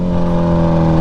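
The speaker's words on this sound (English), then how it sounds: "I forgot how loud this freaking bike is, dude. Like, it's quiet when it idles, but when you're on it, oh my, this thing just screams." Kawasaki Ninja H2 motorcycle engine screaming at high revs while riding, a loud, steady, close droning whine with strong harmonic tones, brief and without talk.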